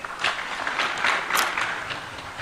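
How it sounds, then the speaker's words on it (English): Audience at a Siaya County leaders' gathering applauding, a moderate, somewhat distant patter of clapping in uneven bursts that rises and falls over a couple of seconds. "Will we clap for them?"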